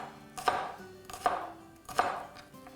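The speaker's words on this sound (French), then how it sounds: "Donc je vais hacher ça." A knife chops garlic on a board in three distinct, evenly spaced strikes, each a short crisp thud, with quiet music in the background.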